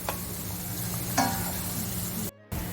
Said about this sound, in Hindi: अब इसमें 1 टीस्पून जिंजर गार्लिक पेस्ट हम डाल देंगे, इसे एक आधे मिनट के लिए हम फ्राई करेंगे